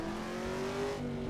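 A racing car's engine in the Assetto Corsa Evo sim, driven on a Fanatec CSL DD wheel, holds a steady, fairly quiet drone with a sustained tone throughout, alone without talk.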